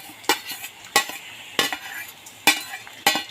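Chana dal, black peppercorns and fenugreek seeds fry in hot sesame oil for a traditional sambar, with a spoon scraping the pan in five sharp, evenly spaced strokes over a soft background sizzle.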